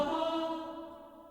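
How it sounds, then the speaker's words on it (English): Omnisphere's Choir Full Staccato synth preset: a short, bright choral stab of stacked voices that sounds once and decays over about a second, alone with no talking. "another choir patch, which is the choir full staccato, which is a little more impactful"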